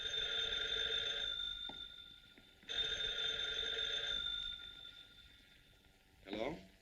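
A telephone ringing in a 1943 Batman film: two long, loud trilling bell rings separated by a short pause, close and clear, followed by a brief clatter as the receiver is picked up.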